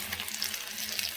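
Green chillies and curry leaves sauté in a pan for a chicken curry, a brief, fairly soft, steady frying hiss with light stirring.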